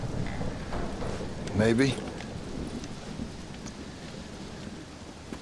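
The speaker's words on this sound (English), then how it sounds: "Well, it's just the storm, John." Thunderstorm in Red Dead Redemption: Undead Nightmare, with a steady hiss of rain throughout and a brief voice speaking over it partway through.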